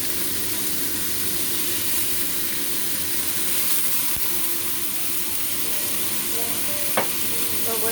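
Steady loud sizzling from a hot wok as wine goes in with meat being stir-fried in a Hong Kong home kitchen, a continuous frying hiss with a few scraping clicks near the end.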